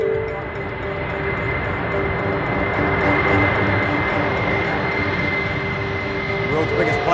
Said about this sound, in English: World's biggest plane.